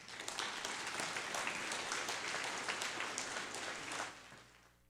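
An audience applauds steadily to welcome speaker Colby Tootoosis at an Indigenous community talk, a dense, sustained clapping that fills the room before tapering off in the final second.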